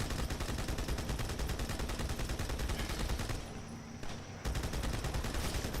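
Sustained rapid mounted-turret fire in a Halo video game, dense continuous automatic bursts with a brief lull near the end before the firing resumes, loud and close with no talk.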